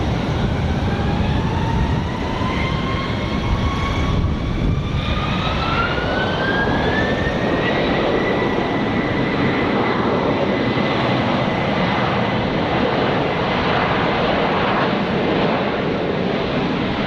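A Royal Air Force Airbus KC2 Voyager jet departs from Phoenix, its engines roaring in a broad, sustained rumble with a rising whine that climbs and then levels off, heard from a distance for the whole stretch.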